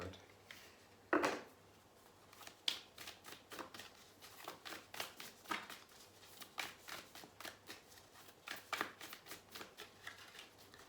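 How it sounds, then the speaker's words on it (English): An Angels and Ancestors oracle card deck is shuffled and cards are pulled, making a long run of soft, rapid papery riffles and slides with occasional sharper snaps, close and quiet. "let's pull some angels and ancestors oracle cards"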